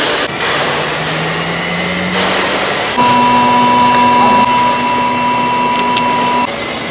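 Electric milk cream separator machine switched on, giving a loud steady mechanical whir with a sustained high whine that starts partway through and holds close to the listener.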